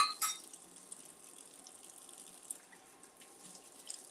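Tap water runs steadily while dishes are rinsed in a kitchen sink, a soft constant hiss with a faint clink or two of dishware, close and quiet.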